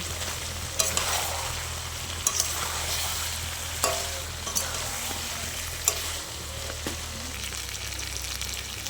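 Potato pieces fry in hot oil in a pan, with a steady sizzle throughout and a spatula giving periodic scrapes and sharp clacks against the pan as they are stirred, with no voices.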